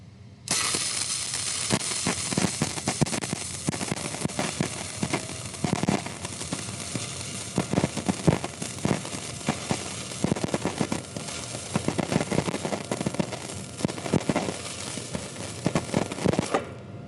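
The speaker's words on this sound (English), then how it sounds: "keep the electrode almost vertical, just off the metal, and slowly progress along the bead of weld" An electrode stick welds (SMAW) a bead on a metal coupon, giving a steady, loud crackling and sputtering hiss with dense pops that carries on without a break for about sixteen seconds.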